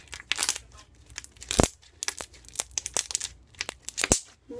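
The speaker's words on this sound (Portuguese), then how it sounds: "Faz vários bubble pops. E muito clique." Stretchy slime being pulled and worked by hand, giving a rapid run of sharp little clicks, crackles and small bubble pops in irregular bursts, close and fairly quiet, with no talking.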